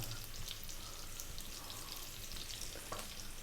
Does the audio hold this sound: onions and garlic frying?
yes